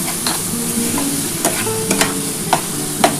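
Radish being stirred and sautéed with spices in a pan, a steady close sizzle with periodic scraping strokes of a spoon or spatula, loud and with no talking.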